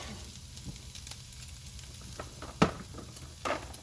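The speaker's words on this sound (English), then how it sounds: "I'm gonna go ahead and get another pan going. And I'm gonna get started on my eggs." Eggs frying in a pan, a soft continuous sizzle with scattered pops and crackles, one sharper spatter standing out partway through, no talking.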